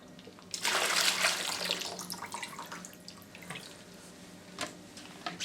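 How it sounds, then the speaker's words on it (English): Water from a reverse-osmosis filter canister being poured out, a loud splashing gush starting after half a second and easing into lighter trickling and drips. "So now you're going to empty out the water from the canister."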